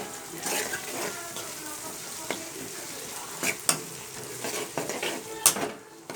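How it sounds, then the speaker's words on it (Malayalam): Tomatoes dropped into a hot pan for a snake gourd, tomato and lentil curry give a soft, steady sizzle, with scattered sharp clinks and scrapes of a spoon against the pan and a couple of brighter metallic taps. "ചൂടായ ശേഷം നമുക്കതിനകത്തോട്ട് തക്കാളി ഇടാം"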